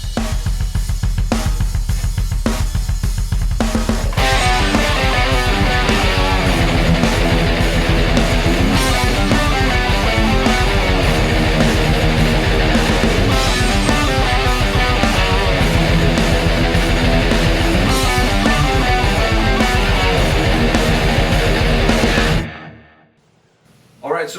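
Heavily distorted metal guitar riff, a couple of sparse hits giving way to dense, driving full-band playing that stays loud before cutting off sharply at the end.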